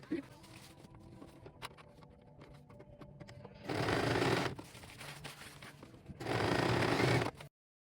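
Sewing machine top-stitching bias tape about 1 mm from the fold on an apron dress, with two loud, steady whirring runs of several seconds each, separated by quieter handling and fabric rustle.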